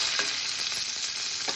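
Tomato, green chillies and curry leaves sauté in hot oil for a pumpkin sambar, a dense, steady, close sizzle with no talking.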